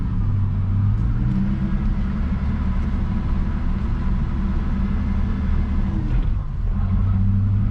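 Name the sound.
Holden Commodore SS manual engine revving, accelerating in second gear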